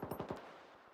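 Rapid automatic gunfire from army soldiers shooting at bandits in the video game Stalker 2, a quick burst of four or five shots followed by fainter distant pops and an echoing tail.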